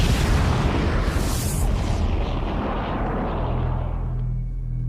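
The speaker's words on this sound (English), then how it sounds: "there was an explosion." A huge, roaring explosion representing the Big Bang bursts at once, loud and broad, then rumbles and slowly fades into a deep, lingering low boom.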